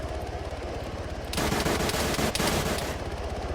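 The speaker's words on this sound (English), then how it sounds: "They're shooting at him!" Sustained automatic gunfire rattles out in Arma 3, a rapid close burst of rounds running for over a second after a stretch of quieter rhythmic shots.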